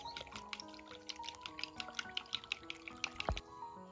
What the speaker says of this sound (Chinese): 用筷子充分的搅拌均匀